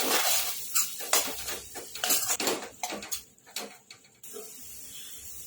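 A spoon stirs and scrapes pav bhaji masala and Kashmiri red chili in a pan, giving a run of close, uneven metallic clinks and scrapes that trail off near the end.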